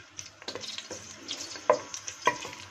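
Chopped leeks sizzle in hot olive oil in a pan for a seafood cuttlefish-and-prawn dish, with a steady frying hiss broken by a few sharp utensil clicks and knocks.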